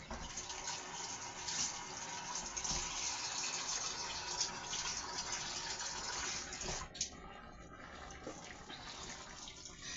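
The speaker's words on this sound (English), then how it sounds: "Now I'm going to add another cup of water." A cup of water poured into a pot of potatoes on the stove, a soft continuous pouring splash that stops abruptly near the end, faint and close with no talking.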